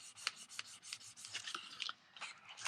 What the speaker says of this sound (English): pinch your box closed and just rub it on there